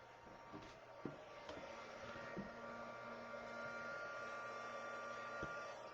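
A heat embossing tool runs with a quiet, steady electric whir and faint hum, heard alone at low level with a few soft clicks and knocks around it.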